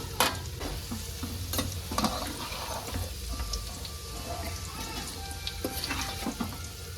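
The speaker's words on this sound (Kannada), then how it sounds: "ಸ್ವಲ್ಪ ಕೆಂಪಾಗಬೇಕು, ಫ್ರೈ ಮಾಡ್ಕೋಬೇಕು." Ingredients for kobri khara fry in a pan, with a continuous close sizzle and occasional stirring clinks and scrapes running through the whole stretch, and no voices.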